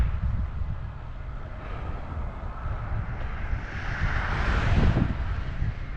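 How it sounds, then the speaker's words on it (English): Strong wind buffets the microphone outdoors along Route 66 in Illinois, a steady loud low roar that surges and swells toward the end, with no talking. "Very powerful wind today too."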